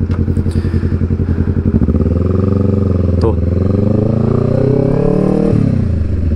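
A Yamaha R25 sport motorcycle with an aftermarket exhaust revs and pulls away, its loud rising drone shifting pitch through gear changes, with a voice talking over it.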